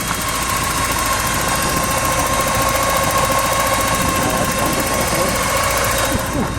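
A 1983 Porsche 944 idles steadily at close range, giving a continuous, even engine drone with a constant hum and no clear rev changes.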